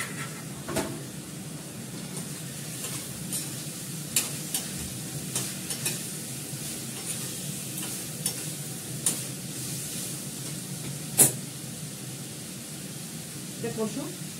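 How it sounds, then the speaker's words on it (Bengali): Spices and ginger paste are sautéed in a pan, with a soft steady sizzle under frequent scraping stirs and a few sharp utensil clinks against the pan, heard up close and fairly quiet. "এটাকে ভালো করে কষাবো, দেবো আদা বাটা"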